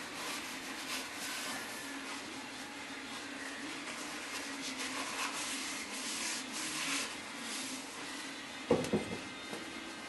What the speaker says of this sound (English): wipe the bore down